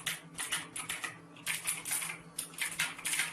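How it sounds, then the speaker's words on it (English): Fast typing on a MARVO Scorpion KG909 mechanical keyboard with Outemu switches: dense, bright, clicky keystrokes close up, coming in quick bursts with brief pauses and no voices. "They have like a 2-click where you press and then it clicks."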